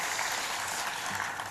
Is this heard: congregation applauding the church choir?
yes